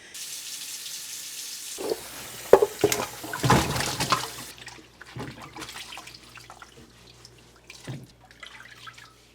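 Cucumbers for old-fashioned lime pickles are rinsed under running tap water at a sink, with a steady splashing stream, several louder bursts and drips as they are handled, then a softer trickle.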